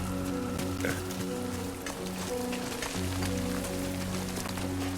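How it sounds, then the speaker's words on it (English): Rain falling in the video game Death Stranding 2, a steady broadband hiss of rainfall on surfaces mixed with a sustained low droning game score, with a brief spoken word near the start. "Great. Rain."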